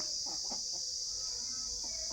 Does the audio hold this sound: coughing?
no